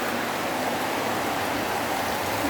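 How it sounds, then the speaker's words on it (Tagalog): Heavy rain pours down steadily in a Philippine (Ilonggo) setting as a possible storm builds, a dense, even hiss of downpour filling the scene without speech. "Oh, ang lakas ng ulan, baka bumagyo yan."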